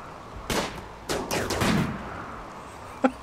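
Sniper gunfire in the colony game RimWorld: a few sharp, separated shots crack out, some echoing in quick clusters, followed by a lone fainter shot near the end, with no talking.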